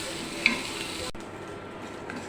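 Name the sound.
dried fish (shutki) frying in a pan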